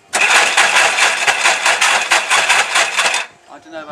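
A Peugeot-family 1.4 TU petrol engine lacking compression, cranking on the starter with a loud rapid rhythmic churn for about three seconds without firing, then stopping, heard up close.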